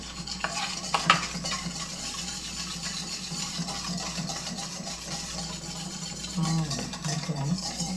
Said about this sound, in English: you want to whisk this together so that it gets a little thick